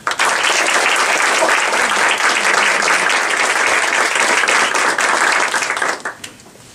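Audience at an author event for John Scalzi claps in sustained, dense applause for several seconds before it quickly fades out.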